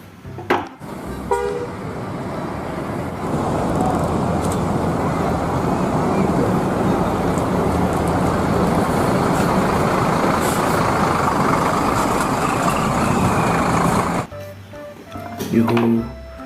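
Sinar Jaya bus rumbling past loud and close for about twelve seconds, a broad steady roar with a short hiss near the end, followed by quieter traffic.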